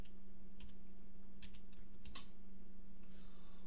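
Keys tapped on a computer keyboard in short, scattered clicks, a few quick strokes at a time, heard up close over a steady low electrical hum with no talking.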